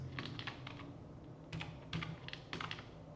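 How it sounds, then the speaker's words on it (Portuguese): Fingers type a math function on a computer keyboard into the GeoGebra input field: quick clusters of close, crisp key clicks with short pauses between bursts, no talking. "aqui no campo de entrada eu vou digitar a função g de x igual a 3x dividido por"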